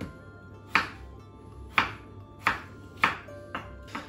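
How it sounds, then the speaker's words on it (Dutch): A knife cuts peeled potatoes into small cubes on a cutting board, giving six sharp, close chops at uneven intervals over a quiet kitchen background, with no talking. "En dan ga ik ze in kleine blokjes snijden."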